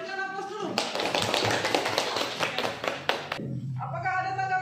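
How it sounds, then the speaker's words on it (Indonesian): A classroom group claps after a group presentation, a spell of brisk, scattered hand claps from a small audience framed by a teacher speaking before and after. "Berikan aplaus dulu."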